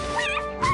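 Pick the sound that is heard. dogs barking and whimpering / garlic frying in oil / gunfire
dogs barking and whimpering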